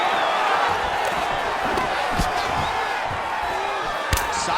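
An arena crowd boos throughout a UFC 5 video game fight between Khabib Nurmagomedov and Israel Adesanya, a dense, steady roar with occasional sharp thuds from the fight.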